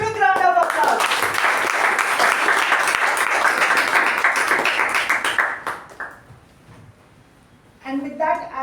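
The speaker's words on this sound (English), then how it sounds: "she deserves a big round of applause" A Toastmasters meeting audience breaks into warm applause lasting several seconds, loud and dense before fading out, with a speaker's voice before and after the clapping.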